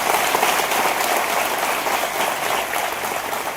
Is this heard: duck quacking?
no